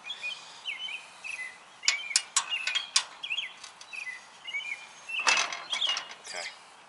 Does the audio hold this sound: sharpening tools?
no